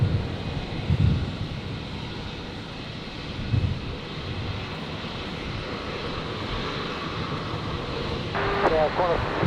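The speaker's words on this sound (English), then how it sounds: "Qantas Link 1934 coming in now, the another E-Jet. Arriving from Adelaide on 19 left, of course." A Qantas Link Embraer E-Jet arrives from Adelaide onto runway 19 left at Brisbane airport, a steady distant roar of jet engines with wind noise and a voice talking over it.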